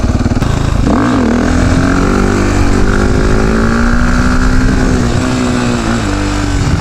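A KTM 450-EXC supermoto motorcycle engine roars loudly and continuously during wheelies, its pitch rising and falling with throttle changes, close up and alone with no talking.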